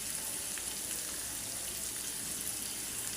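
Small fish fry in a pan with salt, chili powder, turmeric and other spices, giving a close, steady, hissing sizzle with no talk.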